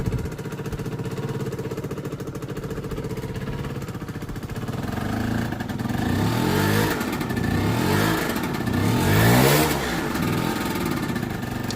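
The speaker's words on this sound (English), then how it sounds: "Right now it's running, there's low revs, but it keeps running better than before." A Gilera DNA scooter engine runs at low revs after a fuel pump fix, a steady mid-pitched chugging drone that swells slightly and rises a little in revs toward the end, close and fairly loud, with no talking.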